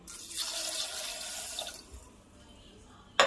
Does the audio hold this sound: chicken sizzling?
no